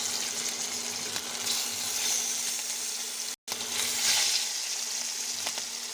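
Hilsa fish coated in salt and turmeric sizzles and fries in hot oil in a wok, a loud continuous close crackle with one brief cut partway through.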